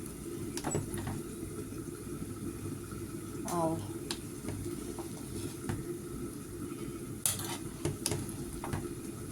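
Prawn dum biryani being mixed in a large pot, with scattered spoon scrapes and clinks against the metal over a steady low background hiss, plus a louder clatter near the end.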